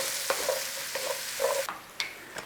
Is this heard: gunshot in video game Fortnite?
no